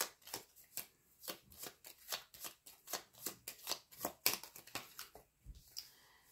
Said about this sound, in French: Je range mes cartes, je déteste qu'elles soient en bazar.